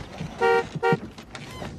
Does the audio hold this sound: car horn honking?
yes